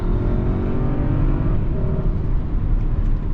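A 2021 Mercedes-Maybach GLS600 SUV accelerating hard. The engine roar stays loud and steady from the cabin, with a low rumble and tonal harmonics that shift in pitch partway through, and no talk over it.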